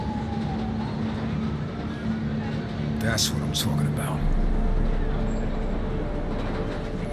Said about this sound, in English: Gotta catch my train.